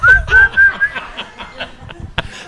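A person at a live music showcase in a barn whistles a short melodic tune of several clear pitched phrases, followed by soft laughter and a few light clicks.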